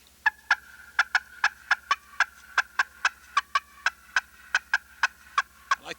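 A slate turkey call's sharp, rapid cutting notes, about twenty loud clucks in an even, quick rhythm, close and clear with no talking.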